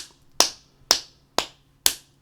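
Four crisp, evenly spaced hand claps at a steady eighth-note tempo, each sharp and close with a short decay, in an otherwise quiet room.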